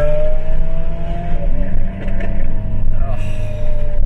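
Lamborghini Aventador S Roadster engine running loud and close, a steady heavy roar with a brief dip and rise suggesting a rev, while a person talks over it.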